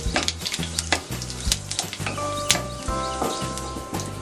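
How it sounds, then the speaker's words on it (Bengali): White cumin seeds sizzle and crackle in hot mustard oil in a pan, a loud, busy frying hiss broken by irregular clinks and scrapes of a utensil, with no voices. "তেলটা যখন গরম হবে দিয়ে দিতে হবে সামান্য সাদা জিরে।"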